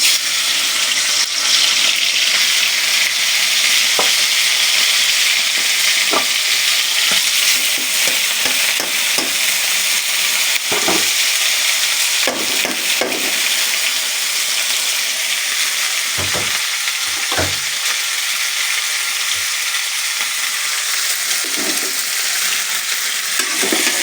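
Shawarma meat fries in a pan with a loud, steady sizzle throughout, and repeated stirring scrapes come and go over it.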